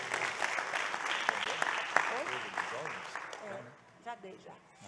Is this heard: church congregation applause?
yes